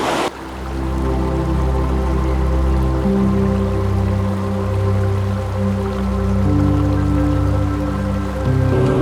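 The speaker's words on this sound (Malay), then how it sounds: "kita boleh dengar alam semula jadi boleh dengar bunyi air bunyi burung-burung" A forest stream flows continuously with a steady rushing babble, loud and close, with a low constant hum underneath.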